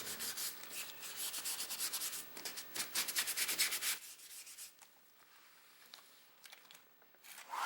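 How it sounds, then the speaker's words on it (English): Brisk, rhythmic sanding strokes rub against a textured rubber surface for several seconds, then stop, leaving quiet room noise with a faint sound at the end. "keep sanding until this little pattern or texture goes away"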